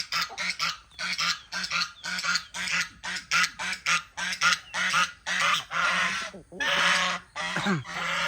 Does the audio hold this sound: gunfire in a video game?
no